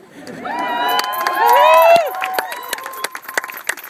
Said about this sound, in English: Cheer for them, high-five them, whistle, hoot for them, put some love on them.